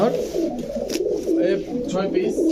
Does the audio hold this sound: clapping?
no